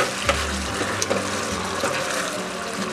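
Chili paneer with chopped green chilies sizzles steadily in a pan over lowered gas, with stirring scrapes and soft clinks cutting through the continuous frying hiss.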